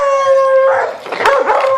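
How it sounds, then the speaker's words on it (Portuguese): A dog close by lets out a sustained, howling bark that breaks into a rougher, noisier cry, loud and alone, with no talking. "Vai esse cachorro latindo pra você aí"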